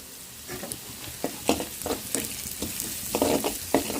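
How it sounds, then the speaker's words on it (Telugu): Onions frying with turmeric in a pan, stirred continuously until brown: a constant close sizzle broken by repeated scraping and tossing strokes of the spatula at an uneven rhythm. "ఈ బ్రౌన్ కలర్ వేగేదాకా ఇట్టే తిప్పుకుంటూ ఉండాలండి"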